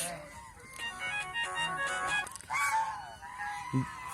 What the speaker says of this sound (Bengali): এই যে হাঁসগুলি দেখেন কত সুন্দর এক রেডের হাঁস